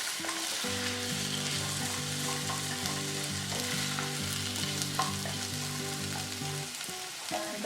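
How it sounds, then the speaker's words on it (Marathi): Peeled fresh cashews sautéing in a pan give a continuous close sizzle with light stirring. Soft background music plays underneath, and no one talks. "आता यात आपण हे सोललेले काजू घालणार आहोत आणि अगदी जरा परतून घेणार आहोत"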